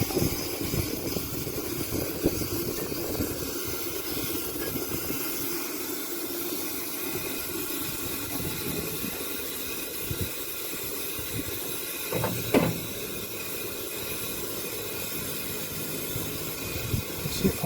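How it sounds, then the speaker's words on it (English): Steam blowing up a steam engine chimney with the blower open, drawing the coal fire: a steady broadband hiss and rush that persists throughout, with a brief louder burst midway. "you can hear the sound now from the engine is the steam blowing through the chimney and causing the draft in the fire"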